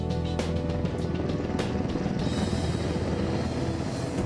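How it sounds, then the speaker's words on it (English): Helicopter rotors chopping overhead, a steady pulsing drone with rhythmic blade thumps, fairly close and continuous with no talking. "One of a helicopter's greatest handicaps during a rescue operation like Desert One is the noise made by its rotors."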